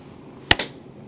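Two quick hand claps, close and sharp, the first louder than the second, against a quiet background.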